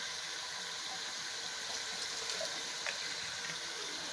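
Vinegar is poured into a corn salad, a soft, steady trickling splash of liquid heard faintly and alone for a few seconds.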